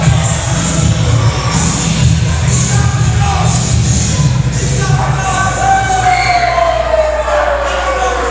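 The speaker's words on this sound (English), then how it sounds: "there's the crowd is getting on fire for the Patriot" A wrestling crowd roars and cheers for a USA-themed wrestler called the Patriot, loud and dense throughout, with a falling siren-like tone rising above the noise in the second half.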